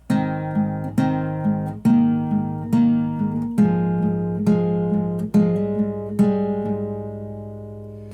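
Acoustic guitar strums a verse, with steady chord strokes about once a second ringing out, played alone with no voice.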